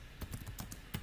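Typing on a computer keyboard, a handful of soft, close key clicks in an irregular rhythm, faint and alone.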